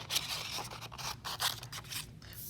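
Scissors snip and slide through paper while cutting out shapes, a close run of crisp, rhythmic cuts and scrapes.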